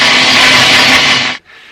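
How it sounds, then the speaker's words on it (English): A blender whirs loudly and steadily, mixing a Halloween cocktail, then cuts off abruptly to a quieter fading hum. "It wasn't a chainsaw, it was this blender, and it was one of my cocktails being mixed"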